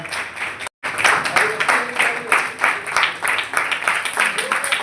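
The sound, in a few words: loud applause at a seminar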